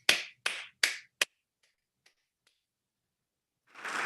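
Applause at a school debate award ceremony: four sharp, separate claps ring out, a couple of faint taps follow in near silence, then a crowd's clapping swells up loudly at the end.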